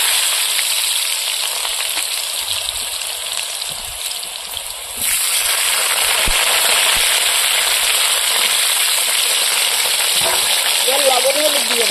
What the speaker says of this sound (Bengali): মূলো পাতার চপ ভাজা তেলের মধ্যে আমি এবার আলুগুলো ভেজে নেব।